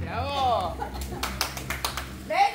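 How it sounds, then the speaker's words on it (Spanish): Scattered handclaps for contestants on a Spanish-language show, a short run of sharp claps set between stretches of speech. "¡Aplauso!"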